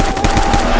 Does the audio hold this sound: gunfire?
yes